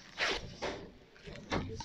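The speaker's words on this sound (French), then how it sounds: "Petite veste avec la petite fermeture éclair." The small zipper of a classic sports jacket is pulled in several brief rasping strokes, close by and fairly quiet, with short pauses between them and no talking.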